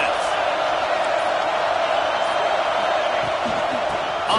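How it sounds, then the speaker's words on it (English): Steady roar of a stadium crowd in College Football 26, bearing down on the offense; a continuous dense wash of noise held at an even, loud level throughout. "This crowd trying to make life miserable for this offense."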